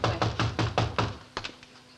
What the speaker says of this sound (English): knock on the window